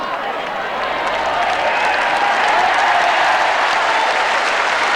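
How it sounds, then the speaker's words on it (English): Sustained applause and cheering from a large crowd greets a well-placed bowl that steals the shot in the 1984 World Singles lawn bowls final between Peter Belliss and Willie Wood, a dense steady roar of clapping throughout. "Willie Wood deserved the cheers and the applause"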